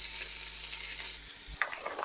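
Sliced onions frying in hot rapeseed oil for a beef provençale, a steady sizzle with stirring, then a few sharp scrapes and louder crackles near the end.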